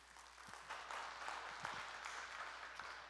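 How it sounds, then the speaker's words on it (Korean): A church congregation claps in welcome for the pastor, a soft, distant patter of many hands that stays even for about three seconds. "큰 박수로 환영해 주시기 바랍니다."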